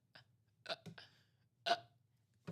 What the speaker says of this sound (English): I'm talking so much, I'm giving myself the hiccups.